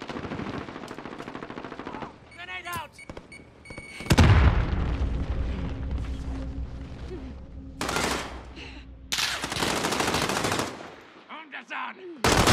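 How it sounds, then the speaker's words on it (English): In Call of Duty Warzone, a grenade is thrown amid gunfire. Bursts of rapid automatic fire sound first, then a loud, heavy blast with a rumbling tail. More close, sharp volleys of shots follow. "Grenade out."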